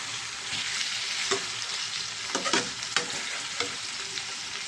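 Chicken fry with coriander sizzling in a pan as it is stirred, a constant bright hiss broken by a few scraping strokes of a spatula, close and without talk.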